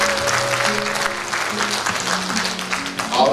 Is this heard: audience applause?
yes